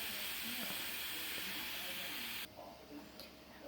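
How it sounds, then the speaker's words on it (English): An Instant Pot pressure cooker vents steam in a loud, steady broadband hiss that suddenly drops in level and thins out partway through, continuing more softly to the end. "you can already hear the steam is slowing down just a bit"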